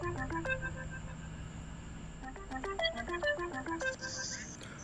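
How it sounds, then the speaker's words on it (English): Phone ringtone playing while a call is placed, a quiet melodic pattern of repeated electronic tones in two runs over faint background hiss, heard close through the phone with no talking. "so we're just gonna call Miller"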